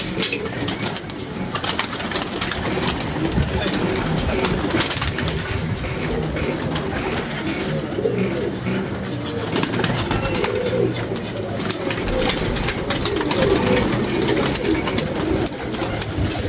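Pigeons coo steadily and close by throughout, with the occasional flap of wings in a busy loft, and no one speaks.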